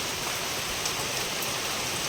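Heavy first monsoon rain pours steadily and loudly in a dense, unbroken hiss, with no voices.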